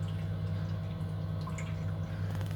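Water flowing through a Red Sea Reefer 525 XL reef aquarium, a steady close hum of circulating flow with faint drips and gurgles on top.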